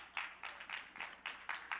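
A conference audience at an SDG Action Zone forum claps for two moderators, a brief, fairly faint patter of applause that swells and fades in quick bursts.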